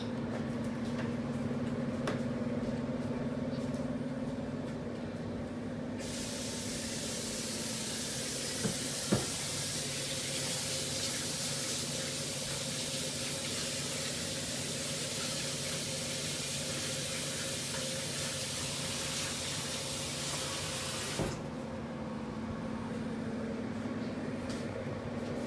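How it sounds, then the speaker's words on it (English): A kitchen tap runs steadily for roughly fifteen seconds while hands are washed, a close, even hiss of flowing water that starts and stops abruptly, with no voices. "I'm gonna go wash my hands right quick."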